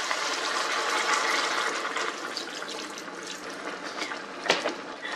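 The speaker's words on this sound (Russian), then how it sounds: "Выливаю сюда стакан красного вина." Red wine poured from a glass into a pot of browned meat while cooking a braised meat stew, a steady liquid splashing and gurgling that runs for several seconds and then tapers off, with a brief clink near the end.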